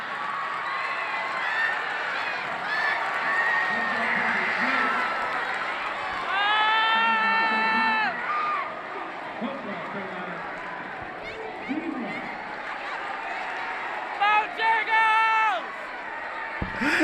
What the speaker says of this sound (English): As the crowd is hyped in this game